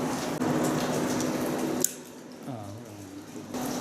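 Water being poured into a caving lamp as its fuel inside the Favot cave, a short steady splashing trickle that stops abruptly, followed by quiet clinks and handling noises.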